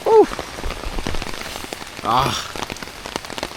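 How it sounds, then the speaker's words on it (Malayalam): Steady rain patters on a surface throughout, with a couple of brief voice-like calls breaking through. "മഴ"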